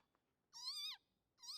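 A cat meows twice in anime The Apothecary Diaries, two clear, high, drawn-out calls close by, separated by a brief quiet gap.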